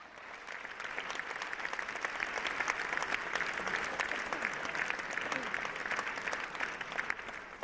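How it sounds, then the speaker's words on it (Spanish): A crowd at a murga carnival competition heat applauds steadily and loudly, a dense, even wash of many hands sustained throughout with a faint murmur of voices underneath. "¡Aplausos!"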